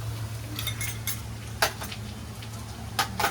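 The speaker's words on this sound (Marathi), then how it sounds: "आणि आता आपल्याला आपले मसाले मिक्स करून टाकायचे" A spoon scrapes and clinks in a cooking pot while spices and ginger-garlic paste are stirred for chicken changeji, with a few sharp knocks over a steady background hum.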